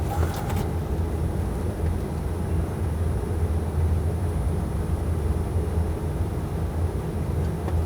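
Cessna Citation CJ3 twin jet engines at takeoff power on a cold morning with the aircraft lightly loaded, a steady, loud, broadband roar that holds constant throughout.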